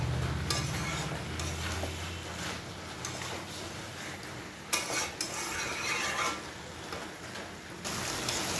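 Masala being stirred in a pan, a steady scraping and gentle sizzle with faint utensil clinks against the metal, close and continuous with no talking.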